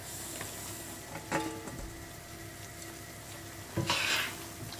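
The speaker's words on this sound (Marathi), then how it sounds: "हे मातशे वयर बबल्स दिसता तेन्ना आमी हे चण्याचें पीठ घालया." Gram flour roasting in a pan for besan ladoo, a steady soft sizzle and scraping stir close by, with a couple of louder stirring scrapes and no talking.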